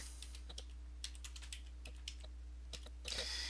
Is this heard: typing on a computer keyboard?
yes